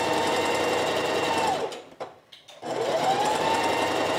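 A sewing machine with a zipper foot backstitching a dress seam: a loud, close, steady motor whir that briefly stops near the middle for the reverse, then resumes at full speed.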